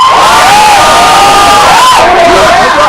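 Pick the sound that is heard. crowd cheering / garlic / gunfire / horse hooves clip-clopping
crowd cheering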